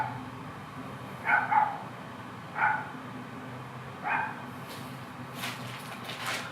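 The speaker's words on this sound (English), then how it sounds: "pardon the dog barking" A dog barks a few times at a distance, short separate woofs spaced a second or more apart over a quiet background hum.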